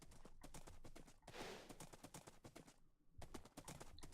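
Horse hooves clip-clop in the Minecraft video game, a quick regular patter of near, crisp hoof taps running almost continuously with a short pause and a brief gap of other sound.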